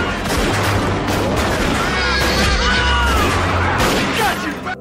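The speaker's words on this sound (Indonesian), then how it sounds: "Terjadi tembak-menembak" A chaotic burst of rapid gunfire during a bank robbery shootout in a Western setting, overlapping shots and booms, loud and continuous, with shouting voices mixed into the din.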